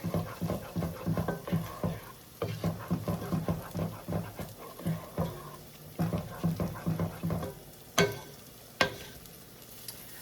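Onions fry and are stirred in a pan for a green bean casserole, a low sizzle under a series of rhythmic scraping strokes in bursts, close but fairly quiet, with two sharp clicks near the end.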